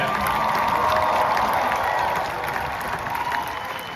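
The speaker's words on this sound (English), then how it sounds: "if I could ask my fellow graduates to join me in giving a round of applause" Graduates and guests at a commencement ceremony give a round of applause, a thick roar of clapping mixed with cheers and whoops from a large crowd, loudest at first and easing slightly toward the end.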